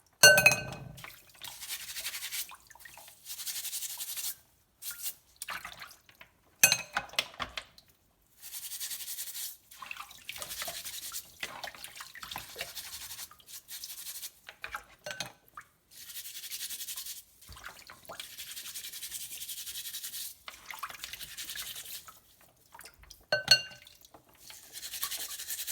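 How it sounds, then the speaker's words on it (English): A small brush scrubbing mussel shells, giving short intermittent bristly scraping strokes in irregular bursts with brief gaps, close and fairly quiet, with occasional light shell clinks. "with a little brush we're gonna clean in this way"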